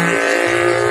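A fast motorcycle roars past on the road, a loud, steady engine drone that swells briefly and holds close throughout, with no talking over it.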